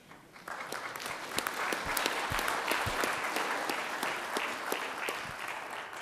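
Audience applause fills a government agency gathering, dense and steady clapping from a large crowd sustained throughout, with scattered louder individual claps and no speech over it.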